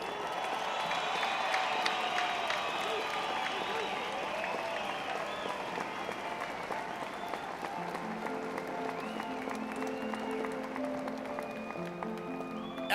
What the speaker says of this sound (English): let's give a round of applause for all the Vietnam veterans